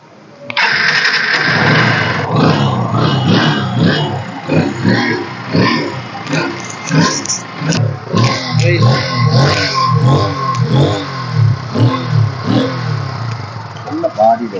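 A second-hand motorcycle fires up on its self-starter and revs. The engine catches almost at once, then runs loud and close with a rhythmic, pulsing throttle, and a voice may be talking over it.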